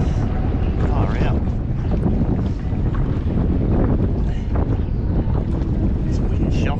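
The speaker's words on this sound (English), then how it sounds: "This wind is shocking." Strong wind buffets a kayak out on open water during a bass fishing competition, a loud, constant rumbling roar of wind noise across the microphone that never lets up.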